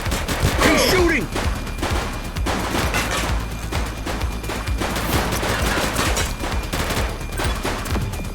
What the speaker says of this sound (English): Light them up! He's shooting!